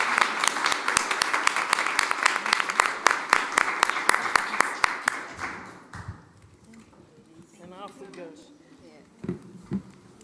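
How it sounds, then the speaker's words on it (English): Online event audience on climate justice giving a round of applause, a dense patter of claps that thins out after several seconds, followed by quieter talk. "we can do a big round of applause here"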